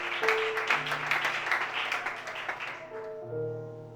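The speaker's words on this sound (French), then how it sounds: "Acclame ça, ça va ensemble." A worship congregation claps in a dense, steady round of applause that gradually fades out, while sustained keyboard chords hold beneath and carry on after the clapping ends.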